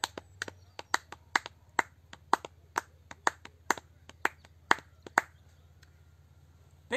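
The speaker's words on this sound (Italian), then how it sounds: "un applauso con i piedi e anche le mani" A small group at a family yoga class gives a round of applause with hands and feet: a string of sharp, irregular claps and slaps heard close and alone, fading after about five seconds.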